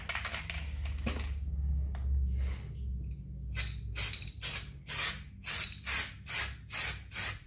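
Short spray-can bursts coat a refurbished Audi A4 S-line brake caliper. A few quick hisses come first, then a pause, then about eight regular, evenly spaced sprays, loud and close, with no talk.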